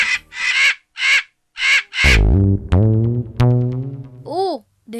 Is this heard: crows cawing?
yes